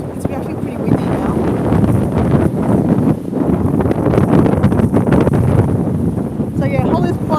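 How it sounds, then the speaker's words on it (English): Gusty seaside wind buffets the microphone in a constant rough roar, with a person talking underneath throughout. "it's actually pretty windy now"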